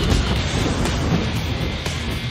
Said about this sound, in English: Phoenix, Arizona's 20-mile-long metro rail line opens December 27